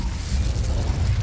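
An Incendio fire spell from Hogwarts Legacy bursts with a loud, brief whooshing blast and low rumble, filling about a second with no talk.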